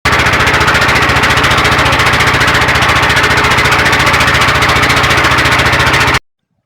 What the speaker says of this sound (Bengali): মোটামুটি ছোটোখাটো একটি ট্রলার নিয়ে যাচ্ছি, প্রায় 21 জন।